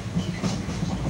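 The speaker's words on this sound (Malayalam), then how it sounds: "ഇതാ ഞാൻ ട്രെയിനിൽ പോവുകയാണ്" A passenger train running on rails on the way to Kozhikode, heard from inside as a steady, loud low rumble with faint rhythmic clatter throughout.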